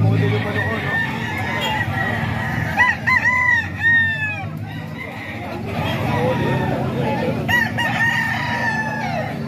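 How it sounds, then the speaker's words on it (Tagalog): A rooster crows several times, fairly close, over a steady murmur of people talking and background chatter. "Ito, manok pa to ni Kuya Bob mga ka-idol."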